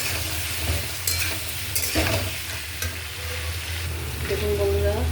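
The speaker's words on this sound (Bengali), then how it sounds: "পেঁপেগুলো দিয়ে দিয়েছি, এবার একটু একসাথে একটু ভাজা ভাজা করে নেবো" Diced papaya and potatoes sizzle steadily in a hot oiled pan, with repeated sharp scrapes and clinks of a spatula stirring the pieces close by.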